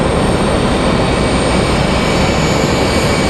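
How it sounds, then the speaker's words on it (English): Sun Country flight 8181, a jet airliner in from Myrtle Beach, arrives at a stormy Raleigh-Durham airport with a loud, continuous broadband engine roar that stays steady throughout. "this one coming in from Myrtle Beach. This is Sun Country 8181."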